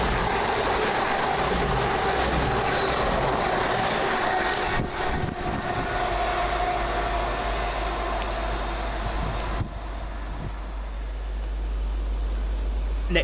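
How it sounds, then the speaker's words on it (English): Two coupled CrossCountry class 220 diesel units, a Bournemouth to Manchester Piccadilly service, pass through Tipton station with a loud, continuous rumble, a deep engine drone and rushing wheel noise that shifts as they go by. "Next up for cross country 220012 and 220027, working 1M46 from Bournemouth to Manchester Piccadilly."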